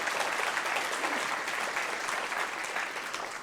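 Steady audience applause from a crowd at a speaking event, dense and continuous clapping throughout, moderately loud with no voices on top.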